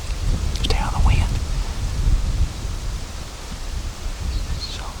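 Wind rushing across an outdoor public-land deer hunting spot in Indiana, a loud low rumbling buffet with gusts that rise and fall throughout.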